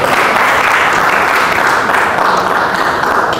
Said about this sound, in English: I think a round of applause is not bad.